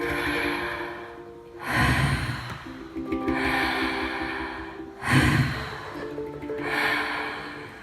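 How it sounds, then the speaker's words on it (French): A large yoga group of about 250 people breathes in unison through the mouth, with two strong collective inhale-exhale swells, steady airy rushes rising and falling in a slow rhythm over a faint tonal background drone. "Alors on va inspirer, expirer par la bouche."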